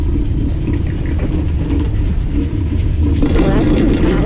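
Ski lift machinery runs at a Shiga Kogen ski resort, a loud continuous low mechanical rumble and grinding with rattling, steady throughout and growing slightly busier near the end.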